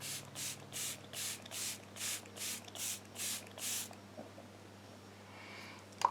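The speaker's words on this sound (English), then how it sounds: "I'm just going to spray this all over my face." A coconut-scented setting spray is misted onto a face in about eight quick, evenly spaced hissing bursts, close and fairly loud, followed by near silence.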